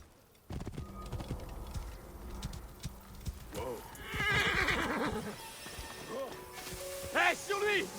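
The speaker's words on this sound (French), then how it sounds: "Il faut qu'on retrouve ce cheval." A horse in a video game, near the Great Pyramid of Khufu, neighs and whinnies repeatedly as hooves clop steadily beneath, with game voices and ambience around it.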